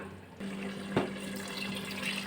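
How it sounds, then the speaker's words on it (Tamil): Water pours into a pot of rice and masala for meal maker biryani, a short, fairly soft splashing trickle heard alone. "இதுக்கு தேவையான அளவு தண்ணி சேர்த்திடலாம்"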